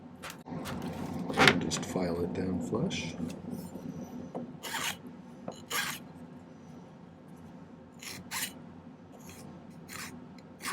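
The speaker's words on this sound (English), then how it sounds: "And just file it down flush." A hand file rasps a small silver earring flush at the workbench in short scraping strokes, fairly quiet and close, with a few brighter bursts of rubbing noise and a voice talking in between.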